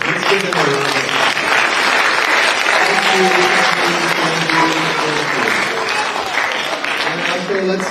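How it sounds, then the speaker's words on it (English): An audience at a multicultural language festival in a college performing arts center claps steadily and loudly, a dense sustained round of applause with voices and cheers mixed in throughout. "let's give them a round of applause"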